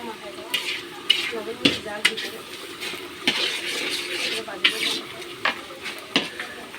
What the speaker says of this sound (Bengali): রান্না বান্না চলছে